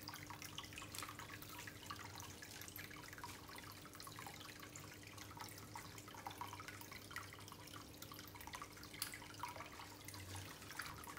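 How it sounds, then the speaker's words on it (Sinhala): Water runs steadily from a tap into a plastic bottle being filled near a fish tank, a constant close trickling and splashing without pause and with no voices. "ඊට පස්සේ බෝතලෙ පොඩි ප්‍රමාණයක් එනකම් වතුර පුරව ගන්න ඕන"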